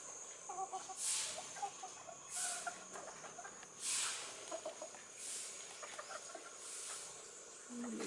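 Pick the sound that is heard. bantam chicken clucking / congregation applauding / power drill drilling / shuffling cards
bantam chicken clucking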